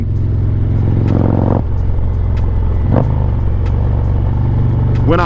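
A motorcycle engine drones steadily while riding, with gear shifts breaking the tone at about one-second intervals and a rising rev near the end, close and loud.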